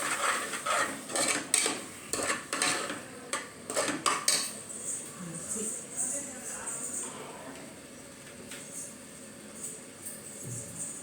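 Curd is stirred into mushroom biryani ingredients in a bowl, with a spoon clinking and scraping against the sides in quick bursts that soften and thin out toward the end. A voice can be heard faintly in the background.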